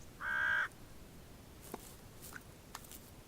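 A single loud, close crow caw rings out near a chamois carcass in late winter, followed by a few faint ticks and rustles in otherwise quiet surroundings.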